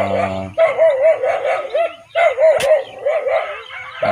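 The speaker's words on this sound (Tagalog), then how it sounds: "Ingay yung aso." A dog barks and yips repeatedly in quick bursts, fairly close, with a brief pause midway before the barking resumes.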